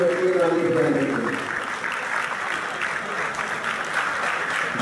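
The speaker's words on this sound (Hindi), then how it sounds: "उनको आदत रहती है ताली बजाने की." Audience applause at the Six Sigma Healthcare Excellence Awards 2022 ceremony, a sustained dense clapping from a hall crowd, with a voice speaking briefly at the start.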